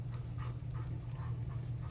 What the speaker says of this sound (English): Also, I'm sorry if you hear my dog.